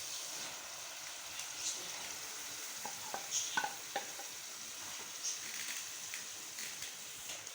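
Lentils for shahi dal hitting a hot pan and being stirred, a faint soft sizzle with scattered light spoon taps and scrapes, no talk.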